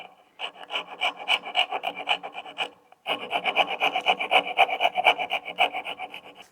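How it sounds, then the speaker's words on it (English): A flap sander smooths the rough wood edge of a Greene & Greene style ribbon drawer pull in two steady rasping bursts, the first about three seconds and the second a bit longer after a brief pause. The scratching is close, loud and rhythmic. "next I'm going over to the flap sander and kind of even things out"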